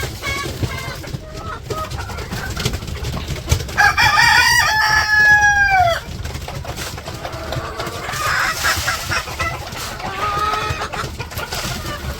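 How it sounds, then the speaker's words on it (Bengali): Village chickens in a coop at feeding time, hens clucking and squawking close by, with a rooster crowing loudly in the middle and further excited calls afterward. "এখন হইতেছে মুরগিরে খাবার দিতে যাইতেছে"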